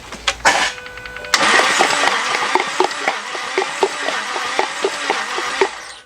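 A Jaguar XK8 engine with no spark, cranked during a compression test: a few short clicks, then a steady rhythmic starter churn with regular pulses for several seconds, close and fairly loud, ending abruptly.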